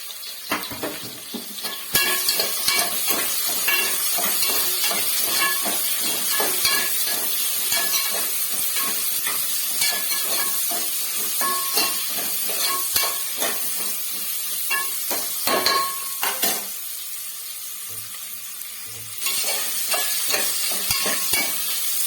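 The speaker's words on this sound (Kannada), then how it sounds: "ಈರುಳ್ಳಿ ಹಾಕೋತಾ ಇದ್ದೀನಿ. ಈರುಳ್ಳಿ ಫ್ರೈ ಆಗಲಿ." Onions fry in a pan for chicken biryani, giving a loud, continuous sizzle. Frequent scraping and clattering stir strokes run over it, with a brief lull near the end before the hiss returns.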